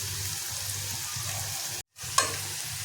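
Asafoetida drops into hot oil for sukhi machi, making a soft steady sizzle that breaks off briefly, then returns with a sharp clink of a utensil, close and quiet, with no talk.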